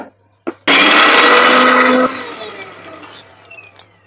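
A mixer grinder grinding ginger, garlic and chili paste roars loudly for about a second and a half, then cuts off and its whir fades away.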